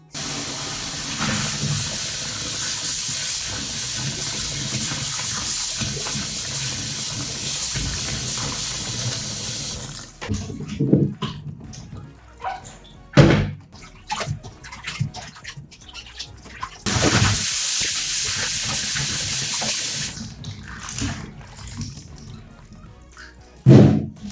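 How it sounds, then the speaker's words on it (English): Running tap water splashes steadily while radish is rinsed for kkakdugi kimchi, a broadband hiss that breaks off midway, gives way to scattered clunks and handling noises, then resumes briefly. Nobody speaks. "Now we're gonna rinse off the radish."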